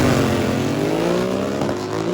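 Harley motorcycles rev hard in a drag race, an old school Sportster against a new custom build, their engine note climbing steadily, loud and near, with no voices.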